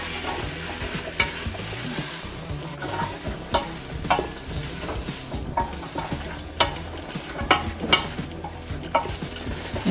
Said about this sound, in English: now we're gonna add in the sweet potatoes and the spices. Give it a good stir